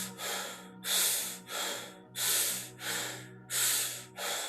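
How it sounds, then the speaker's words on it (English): Six or so loud, close, airy breaths in a steady rhythm. The first inhale is long, and the breaths that follow are shorter, with hissing exhales rising and falling over a faint low hum. "Let's take a long, deep breath. 4 short breaths."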